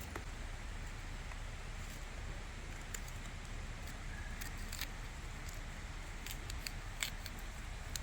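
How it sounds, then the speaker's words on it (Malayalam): Cassava being peeled by hand for a Kerala-style tapioca dish, giving soft repeated scraping and snipping ticks with a few sharper clicks over a steady low background hum, close and fairly quiet. "നമുക്കിത് കപ്പ ഒന്ന് തൊലി കളയാം"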